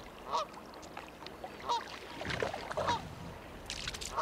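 A Canada goose honks in the wild near water, several short nasal calls spaced a second or so apart, moderately close against light splashing and rustling background noise.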